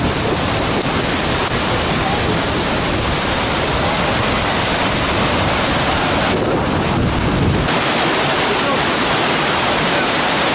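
Yosemite waterfall roaring in a steady, loud, full-bodied rush that never lets up, with gusts of wind buffeting the microphone.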